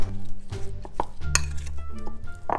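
Cream cheese and jalapenos stirred together in a bowl, with soft scraping, clinks of a utensil against the dish and a few sharper knocks, close and fairly steady with no talking.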